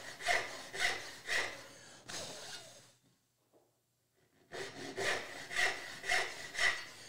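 A backsaw cuts wood in rhythmic rasping strokes, about four close strokes, then a short pause and a brief quiet gap, before another run of steady strokes resumes.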